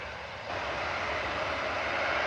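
A Singapore Airlines Airbus A350 just after landing at Manchester Airport produces a low, steady jet engine rumble that swells slightly after the first half-second, heard at a distance without speech.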